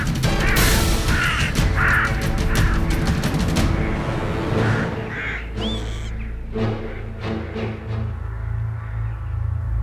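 Crows cawing in the wild Welsh countryside, a series of harsh repeated calls in the first few seconds over steady low outdoor rumble, then scattered fainter calls.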